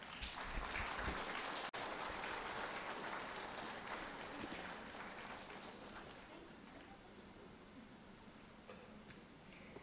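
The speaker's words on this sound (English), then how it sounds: "Please give a round of applause" A room of attendees at a Ministry of Coal stakeholders' consultation applaud to welcome a chief guest, with broad, steady clapping that holds at a moderate level across the clip and tapers slightly toward the end.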